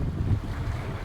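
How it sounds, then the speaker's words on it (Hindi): Cold wind roars across the open upper deck at the back of a cruise ship sailing from Copenhagen to Oslo, a steady loud low rumble buffeting the microphone. "और बहुत ज़्यादा ठंडी हवा चल रही है।"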